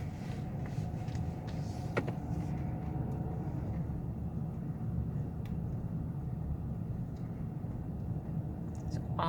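Cars sit lined up in traffic, waiting for food at a rural Nebraska food pantry. A low, steady idling rumble stays faint and distant, with a few small clicks and knocks.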